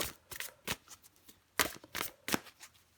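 Tarot cards shuffled and drawn by hand, heard as a close series of quick, crisp riffling bursts and soft slaps, separated by short pauses.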